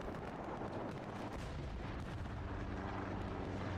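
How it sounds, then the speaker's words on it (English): A grenade explodes in a Kharkov scrim match, a deep, rumbling boom that spreads into a steady roar of low battlefield noise and distant firing, with no voices over it. "Grenade in from Fuzz."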